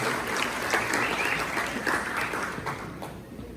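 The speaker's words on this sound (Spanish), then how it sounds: "Un aplauso" A conference crowd breaks into sustained applause, a broad even wash of many hands clapping together that stays full throughout and fades slightly at the very end.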